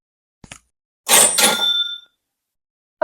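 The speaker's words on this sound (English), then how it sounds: "this sounds really like a cash register" An AI-generated cha-ching cash register sound effect: a small click, then a bright metallic ring with a bell-like chime decaying over about a second, loud and isolated in silence.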